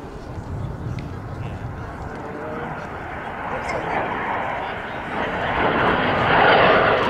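A propeller aircraft performing a loop at the Duxford summer air show, its engine drone rising and swelling louder toward the end of the pass.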